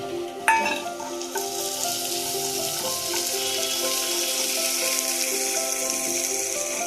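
Peanuts fry with potato and carrot in a pan, a steady sizzle from close by opening with a sharp clack as they drop in, followed by light scraping of stirring, and no voices.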